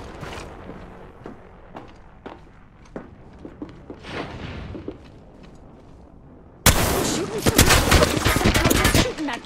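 Gunfire in a battle royale video game: scattered sharp single shots over quiet footsteps, then a sudden loud sustained burst of rapid automatic fire close by.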